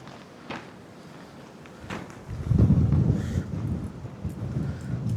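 Steady wind buffets the microphone, swelling into stronger low rumbling gusts halfway through and staying blustery to the end.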